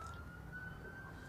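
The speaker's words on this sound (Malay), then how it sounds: "bunyi siren terus." A distant emergency siren holds a steady high wail, faint and far off beneath low background hum, with no talk.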